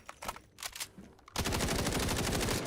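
SMG-45 submachine gun in the shooter game Delta Force: a few scattered single shots, then a sustained rapid-fire burst that runs loud and continuous to the end.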